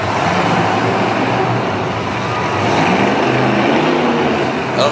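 A big white Dakota monster truck at full throttle in a Harrisburg, Pennsylvania arena, producing a loud, steady, broadband engine roar that holds without pause for the whole stretch.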